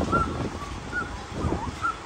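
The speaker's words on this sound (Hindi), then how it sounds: "देखो कैसे हवा चल रही है" Strong storm wind gusts hard against the microphone in a sudden rainstorm, a steady rushing roar with surging bursts and a few faint bird calls.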